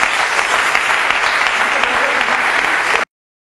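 A crowd at a French-speaking gathering applauds to welcome a bishop, dense steady clapping filling the hall for about three seconds before cutting off abruptly.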